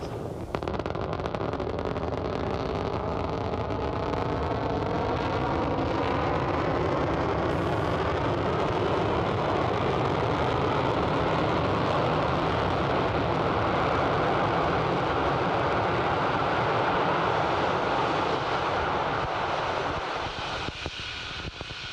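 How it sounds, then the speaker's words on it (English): A Falcon 9 first-stage booster fires its landing burn, a loud, continuous broadband roar that holds steady for the whole stretch, with wind buffeting over it and no voices. "Now the landing burn has begun for the Falcon 9 first stage."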